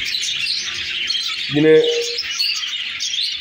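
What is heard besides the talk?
Texas budgerigar chick chirping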